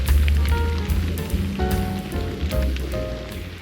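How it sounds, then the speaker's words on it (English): Spring rain falling outdoors in the woods, a steady close patter of drops on surfaces, with some faint tonal sounds mixed in. "It is raining."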